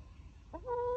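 A single brief fowl call from backyard chickens, a short clucking squawk that rises and holds for half a second, faint over low background rumble.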